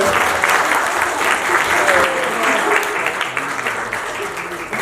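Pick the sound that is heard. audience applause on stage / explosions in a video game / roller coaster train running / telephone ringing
audience applause on stage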